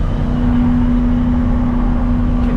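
A car engine held at full throttle climbing a hill, droning loud and steady with a constant strained hum and no break in the sound.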